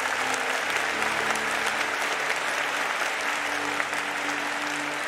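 Steady, loud applause fills a university engineering graduation ceremony as the crowd claps for the graduates, an even, continuous roar of hands with no pauses.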